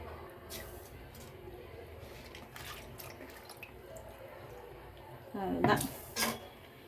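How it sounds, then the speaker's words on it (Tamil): Rice being stirred in a pot for mint pulao scrapes and clinks softly against the metal in an uneven rhythm, close by, before a voice speaks briefly toward the end. "எல்லா அரிசியும் சேர்த்தாச்சு நல்லா கலந்து வச்சுக்கலாம்"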